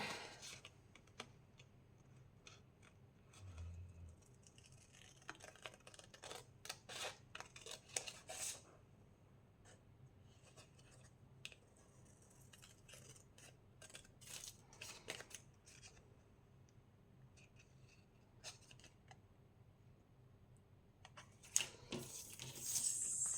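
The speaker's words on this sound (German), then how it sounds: "Das mache ich dann mit der Schere." Scissors snipping thin paper while making DIY junk journal gift tags, a quiet run of crisp, irregular cuts and clicks close by, with brief pauses and a slightly louder burst near the end.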